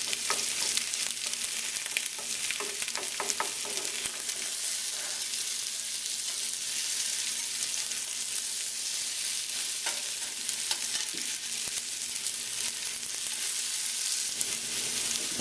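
Potatoes roast in a hot pan with a steady, hissing sizzle, and a few brief scrapes and clatters come early as the pieces are turned. No one speaks.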